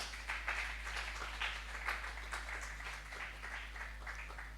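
A church congregation applauds together in a sustained patter of many hands, steady and moderately distant, with a low hum beneath.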